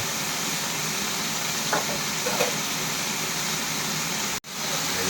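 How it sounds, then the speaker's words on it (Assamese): Vegetables frying in hot oil in a pan give a steady, loud sizzle throughout, with a few faint stirring touches and a sudden short drop near the end. "এতিয়া চব্জিটো ভাজো"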